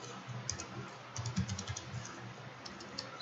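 Typing on a computer keyboard, brisk irregular keystroke clicks in short bursts, close and fairly quiet, with no talking.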